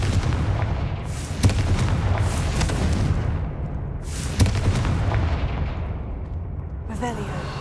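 Spell blasts from a Confringo fireball in Hogwarts Legacy, two sharp booming bursts with a rumbling tail over a steady game soundscape, loud and close, with spoken incantations in between.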